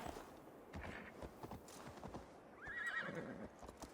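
Horse hooves clip-clop in the Assassin's Creed Valhalla video game, a steady run of hoofbeats with a sharp whinny near the end, mixed with game ambience and no talking.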